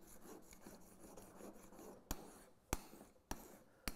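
Quiet rubbing strokes polish the back bevel of a bench plane iron during restoration, a soft continuous scraping broken by four sharp, evenly spaced clicks or knocks toward the end.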